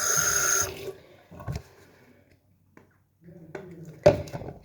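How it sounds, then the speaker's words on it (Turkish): Running tap water is used to wash a face at a sink: a short gush of water at first, then close, intermittent splashes and drips with quiet gaps between them. "Hemen yüzümüzü yıkayalım."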